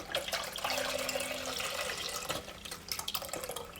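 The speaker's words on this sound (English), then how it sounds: "So let's pour. I'm gonna use the whole jar" Bone broth pours from a jar into a pot, a continuous liquid splash and gurgle close by that tapers toward the end, with no talking.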